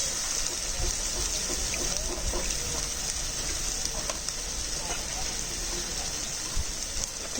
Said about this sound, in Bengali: জল দিয়ে কষিয়ে নেবো